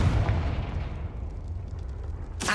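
Confringo blasting spell cast at a broken lift in Hogwarts Legacy, a loud, close, booming explosion that rumbles and decays over a couple of seconds before a second sharp burst at the end.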